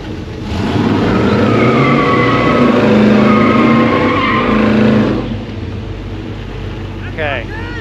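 Race cars launch in an elimination round of a drag race, engines roaring loud and steady for about five seconds before the noise drops away, leaving quieter background sound and a brief chirp near the end.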